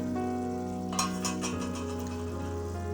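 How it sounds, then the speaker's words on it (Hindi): Katwa gosht mutton masala sautéing in ghee makes a steady low sizzle, with a few soft stirring scrapes in the middle as a spoon moves through the pan, and no talking. "अब आपने इसको भूनते रहना है।"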